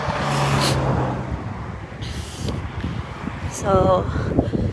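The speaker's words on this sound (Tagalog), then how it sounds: "Hangin." Wind rushes and buffets against the microphone throughout on a farm in Prachinburi, Thailand, with a brief spoken word near the start and faint background noise.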